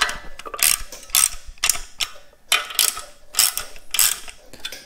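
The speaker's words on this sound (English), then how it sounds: "I just draw all the bolts up just until they begin to get tight" Clutch pressure plate bolts on a Farmall tractor are tightened with a ratchet wrench, giving bursts of close, loud rapid clicking separated by brief pauses, with no talking.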